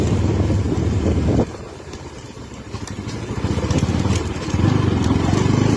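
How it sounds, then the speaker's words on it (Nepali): A motorcycle engine drones steadily while riding on an empty road, with heavy wind rushing across the microphone and the engine note rising and falling as it speeds up. "आज चाहिँ बाइक चलाउन सक पऱ्यो क्या यार"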